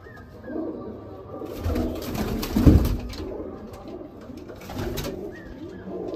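Madrasi pigeons in a loft coo steadily, several birds overlapping close by, with a louder flurry of cooing in the middle and softer calls continuing around it.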